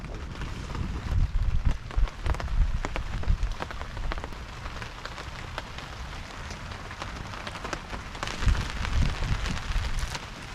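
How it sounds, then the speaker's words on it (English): Heavy rain pours down at a campsite near Sauble Falls, a dense steady hiss of drops with occasional louder splatters and heavier surges, with no talking. "still raining hard"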